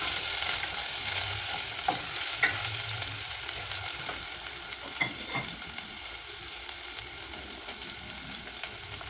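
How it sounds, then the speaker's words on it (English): Sliced onions frying in oil that is not very hot, a steady soft sizzle with occasional stirring scrapes and clicks, close and alone without speech. "I'll fry my onions"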